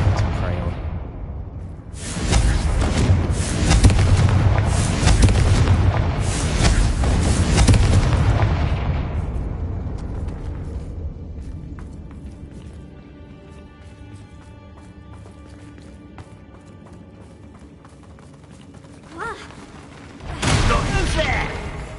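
A Confringo blasting spell explodes in the Hogwarts Legacy video game, a loud booming burst with crackling debris that decays into a quiet rumble before another sharp blast near the end, with voices heard around it.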